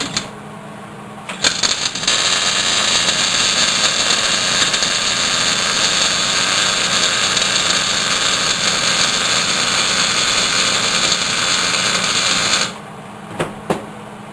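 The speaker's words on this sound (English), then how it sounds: "come into the back here and tack weld this together for the moment" A tack weld joins a mini woodstove in one continuous, close crackling buzz lasting about eleven seconds, with brief clicks just before it starts and after it stops.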